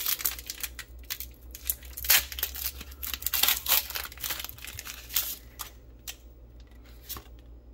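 A Pokémon Brilliant Stars card pack is torn open up close, with crisp crinkling and ripping of foil wrapper in irregular bursts, then softer rustles and quiet pauses.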